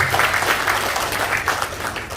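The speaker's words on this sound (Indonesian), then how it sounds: "Tepuk tangan buat PT Best Bapak Ibu." Applause from a seminar audience for a company, a fairly thin, uneven patter of clapping hands from a modest crowd, with a low hum in the room and a voice briefly over it.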